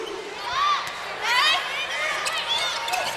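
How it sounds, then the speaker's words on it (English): Spectators at a 2009 Class C high school volleyball final between Bronson and Ravenna cheer and shout, loud and echoing in a gym, in swelling bursts of voices. "she has her brother cheering for her loudly on the Ravenna bench"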